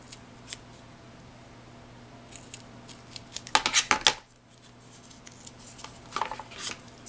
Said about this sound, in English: I'm cutting outside of the lines, as I mentioned, because I do need to trim it